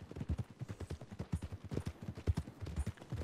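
Horse hooves clip-clop at a steady walking rhythm in Red Dead Redemption 2, faint and close, with no voices over them.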